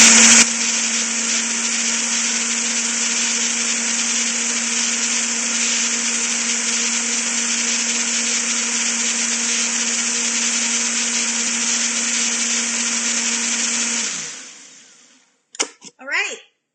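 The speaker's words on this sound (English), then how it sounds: "All right, let's get this guy blended." A blender whirs continuously for about fourteen seconds while blending a Shamrock Shake smoothie, loud and steady, then winds down and stops, followed by a few brief knocks.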